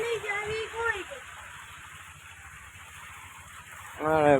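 Heavy rain pours onto a road in a steady, dense hiss of drops, with a person talking at the start and again near the end.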